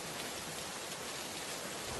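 Steady, dense rain falling outdoors, a continuous broadband hiss at even loudness throughout, close and unbroken, with no voices.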